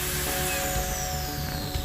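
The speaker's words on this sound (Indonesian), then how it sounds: "saya haluskan dengan mesin gerinda seperti ini dengan mata amplas" Angle grinder fitted with a sanding disc smoothing the edge of a wooden coffee table top, a steady close whirring drone with rough rasping texture throughout, no voices.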